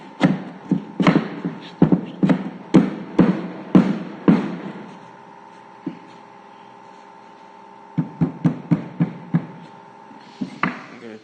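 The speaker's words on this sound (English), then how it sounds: "I'm gonna use my hammer." Hammer strikes on a rustic wooden tabletop piece for an entryway table, a rapid run of sharp knocks, a long pause with a faint ringing hum, then another quick series of taps, close and fairly loud.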